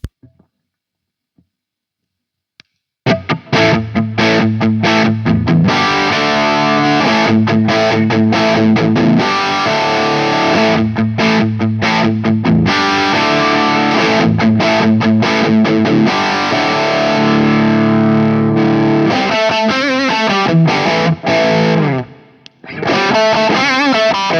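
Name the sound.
guitar through Marshall style pre-amp, tube screamer style boost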